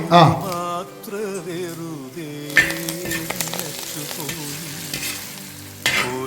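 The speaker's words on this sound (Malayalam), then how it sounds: "ഇഞ്ചി, പച്ചമുളക്. കറിവേപ്പില ഇടുകയാണേ." Sliced ginger, green chili and curry leaves hitting a hot pan for duck mappas: a sharp sizzle and frying crackle with stirring scrapes, loud and close, over a faint tonal background.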